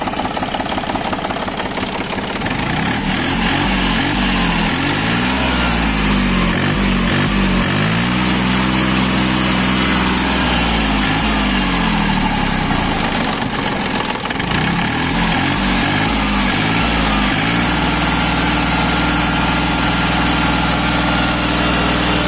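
Iseki TA 270 tractor diesel engine idling close by, a loud steady chugging rumble with even rhythm and slight shifts in pitch throughout.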